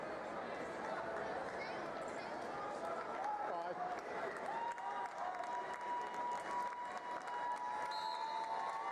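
A high-school wrestling crowd from Simon Kenton yells and claps at a state championship match, a dense, sustained roar of voices with a rhythmic chant and applause filling the background.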